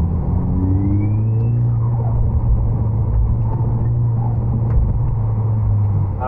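A car running without shock absorbers drives steadily and leans hard through a turn. Its engine hums in a low, continuous drone with some rumbling from the road. The sound is loud and close throughout, with no talking.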